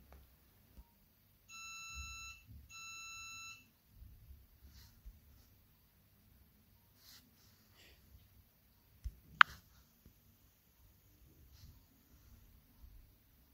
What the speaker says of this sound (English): you will hear a beep from the gateway